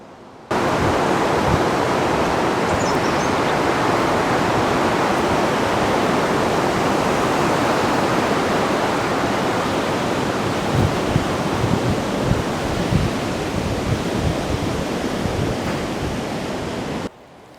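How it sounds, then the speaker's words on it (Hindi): A river flowing behind a gurudwara makes a continuous loud broadband rushing roar, steady for the whole stretch, with no talk over it. "नदी बह रही है।"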